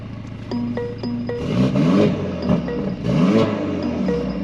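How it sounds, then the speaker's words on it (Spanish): A Mercedes-Benz A 45 S AMG engine idles with a rhythmic burble, then revs sharply several times as the exhaust valves open, each rev rising and falling with a throaty exhaust roar, close by. "Yeah, you can hear the valves opening up."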